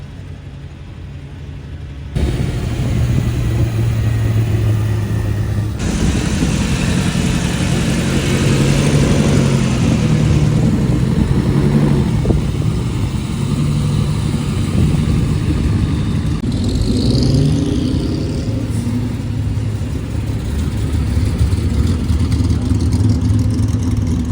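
A three-seater Ferrari Daytona Competizione at Monterey Car Week revs loudly and drives past, its engine roar steady and close with shifting pitch, swelling up after a quieter opening and holding for over twenty seconds.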